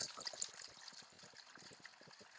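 Caustic tank cleaner pours into a car gas tank with a chain already inside, giving a faint continuous gurgling trickle with small splashy pulses throughout the brief stretch.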